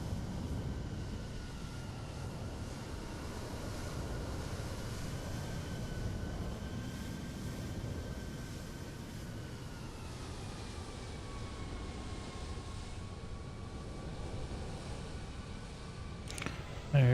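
A Citation jet in Microsoft Flight Simulator 2020 heard as a steady broadband engine roar with a faint whine gliding downward. Radio chatter talks over it, and a sharp click comes near the end.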